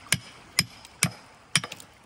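Hammer blows bust open a fossil-bearing rock in an Alabama creek: four sharp, loud, close impacts spaced roughly half a second apart, the last followed by a short clatter of falling fragments.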